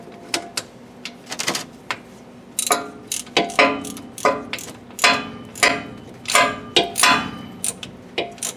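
Ratchet wrench clicking rapidly as it tightens the drain plug on a Ford Mustang 7.5-inch differential, in uneven bursts of sharp close ticks with brief pauses.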